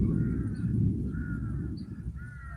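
Several crow-like birds caw in a flock, calls fairly distant and intermittent over a low rumbling background.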